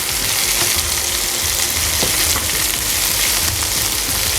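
Roughly chopped ginger, garlic and onions roast in a hot pan for mutton curry, giving a steady, close, continuous sizzle and frying hiss with faint stirring scrapes throughout.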